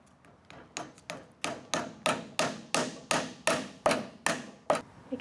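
Shiitake plug spawn is hammered into drilled holes in logs with a quick series of about a dozen sharp, evenly spaced taps, close and fairly loud, with no talking.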